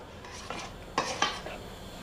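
A utensil stirs and scrapes inside a bowl in a few short clinking strokes, close up, with no talking, mixing a Thai snack batter with raw corn kernels.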